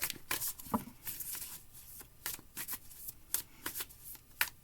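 A deck of playing cards shuffled repeatedly in quick riffling bursts, close and fairly quiet, with no voices.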